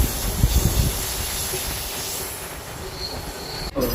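A passenger train running at speed after leaving Kharagpur station on the line toward Odisha, heard from on board as a steady rolling roar and clatter of wheels on rail, with a brief hiss and faint squeal near the end.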